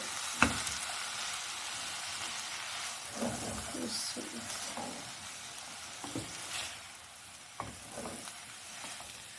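Vegetables and spices for spring rolls frying in a pan, a faint steady sizzle broken by occasional stirring clinks and scrapes, close and quiet with no talk.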